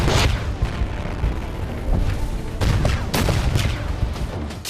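Gunfire across the Line of Control crackles in a dense, continuous roar, with several heavier bursts standing out. It sounds rough and distant-edged, and no voices are heard.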